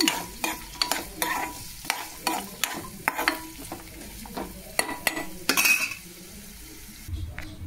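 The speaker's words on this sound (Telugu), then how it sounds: "ఇదిగోండి క్యారెట్ వేసేసాను, అవి కొంచెం వేగినాయి." Carrots frying in a pan and being stirred: repeated sharp scrapes and clinks of a utensil against the pan in an irregular rhythm over a steady sizzle, close and clear, with no talking.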